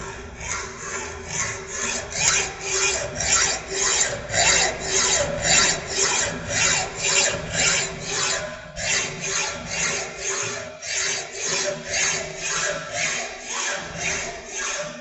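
A hacksaw cuts a marked metal workpiece in a fitting shop, with steady rhythmic back-and-forth rasping strokes, about two per second, close and continuous for the whole stretch.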